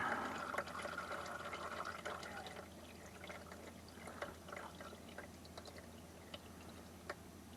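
Transmission oil drains from a transmission into a drain pan, a steady liquid trickle and splash that holds throughout, with small drips and clinks over a running background.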